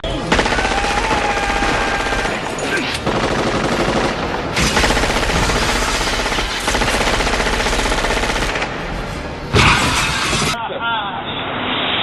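A weapon fires a burst of 30 rounds in a loud, dense rattle of gunfire lasting several seconds, with heavy noise and talking mixed in.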